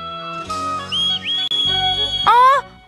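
A cartoon whistle blown in a Doraemon episode rises to a high sustained tone, then gives a second bright, wavering burst near the end, over quieter background cartoon sounds.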